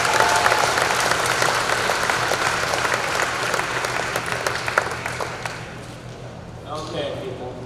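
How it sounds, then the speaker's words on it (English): A graduation formal audience for the class of 2019 gives a big round of applause, dense clapping that fills the room at first and then thins and tapers off, with some voices in the crowd underneath. "So a big round of applause for our support and our community for these special gifts"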